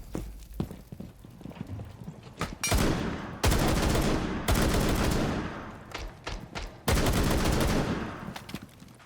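An M12 SMG fires in a ranked video game match, with several loud, sustained bursts of rapid automatic fire separated by short gaps.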